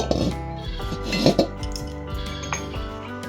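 Clattering and clinking of a metal wok being moved and set down, close by, with a few sharper knocks over a steady background hum, while making coconut and jaggery sweets.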